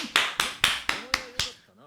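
One person claps six times in an uneven rhythm, each clap sharp and close, a few followed by brief vocal sounds and a short voice at the end.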